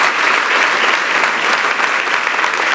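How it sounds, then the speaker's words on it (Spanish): Church congregation clapping together in praise, a loud, dense and steady burst of many hands that fills the room with no voices on top. "dale otro aplauso a Dios con todo su santo corazón"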